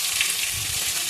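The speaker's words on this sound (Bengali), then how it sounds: "পেঁয়াজ দিয়ে দিচ্ছি" Onions hitting hot oil in a pan while cooking dried fish, a dense steady sizzle throughout, close and fairly loud, with no voice over it.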